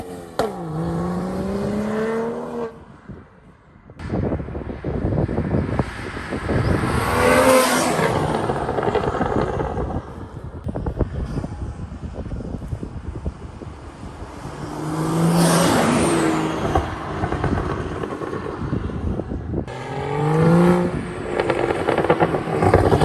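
Flood-damaged BMW 435i bought from a salvage auction, accelerating hard on the road with a loud, rising engine note through repeated gear pulls, heard from inside the car.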